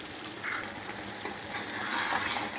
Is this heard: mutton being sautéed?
yes